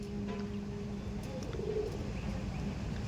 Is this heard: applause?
no